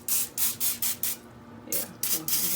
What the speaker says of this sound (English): I'm just gonna spray the bottom of the pan